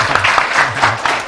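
Children at a religious talk clap briefly, a short loud burst of applause with some voices mixed into the clapping.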